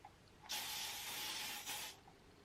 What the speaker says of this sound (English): And then I just give it a quick little spritz.